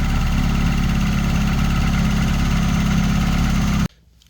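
A turbocharged four-cylinder engine in an MK2 Volkswagen Jetta coupe runs steadily at close range, building boost, with a dense, low rumble and a faint turbo whistle on top, then cuts off abruptly near the end.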